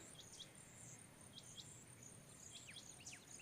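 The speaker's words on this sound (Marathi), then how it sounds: "आता बघा इकडे चित्तर ओरडतोय, पक्षी ओरडतात," Crickets and small birds calling together in open countryside, a steady insect trill with repeated short bird chirps and tweets scattered throughout, moderately close and fairly faint, with no talking.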